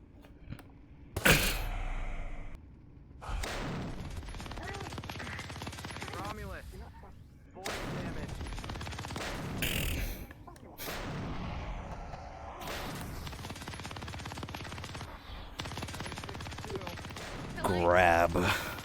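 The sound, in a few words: gunfire in a video game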